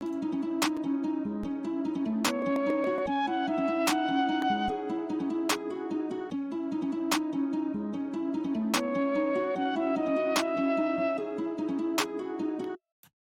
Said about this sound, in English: I added a snare sound